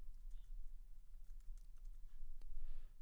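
Quick taps on a Mac computer keyboard, a short irregular burst of keystrokes over a low steady hum, close and fairly quiet.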